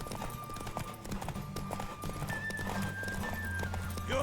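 Rhythmic hoofbeats of a horse in The Witcher 3 video game, close and clear, joined by a neigh, with only faint talk and game ambience beneath.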